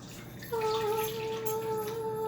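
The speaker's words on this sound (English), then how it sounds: "The recipe calls for 2 cups of milk. Pour that in for me." Milk being poured into a container for homemade mint chocolate chip ice cream, a close, steady stream whose tone rises gradually as the vessel fills, starting about half a second in.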